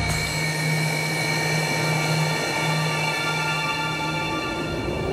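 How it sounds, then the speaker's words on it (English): Jet turbines of a Su-30MKR fighter spool up before takeoff with the canopy closed, a steady loud roar carrying sustained high whining tones throughout, no voices. "And the sound, low roar of rotating turbines turning into a shrill hissing"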